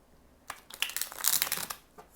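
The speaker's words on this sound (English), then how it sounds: "I feel like I need to shuffle them one more time and just knock on them" Small oracle cards are shuffled by hand, giving a soft, close riffling and rustling burst that swells and fades over about a second and a half, without any talking.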